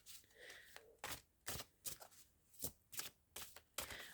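Mystical wisdom oracle cards are shuffled and drawn, with close, crisp papery flicks and snaps in a quick irregular series, quiet overall.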